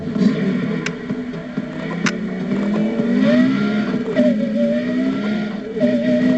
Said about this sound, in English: This is a 210 mile an hour Porsche Carrera GT.